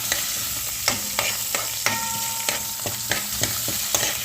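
Green chillies frying in hot tempering oil for a ridge gourd curry, a steady close sizzle with repeated sharp scrapes and clinks of a spoon stirring the pan, no voices.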